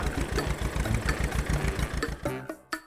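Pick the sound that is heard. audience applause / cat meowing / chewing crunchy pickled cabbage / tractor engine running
tractor engine running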